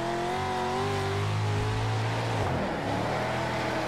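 A dirt race car engine in the World of Outlaws video game screams at full throttle and bounces off the rev limiter, a loud, steady high-pitched drone with a brief stutter as it cuts out near the end of the straightaway.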